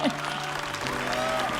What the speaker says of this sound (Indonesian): Tepuk tangan semangat dulu yuk untuk Ayu